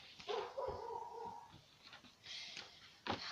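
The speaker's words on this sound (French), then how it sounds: "c'est ma chienne. Qui aboie parce que ma mère va chez le veto avec l'autre chienne." A female dog barks indoors, several sharp yips and barks in a short irregular burst, fairly close and moderately loud.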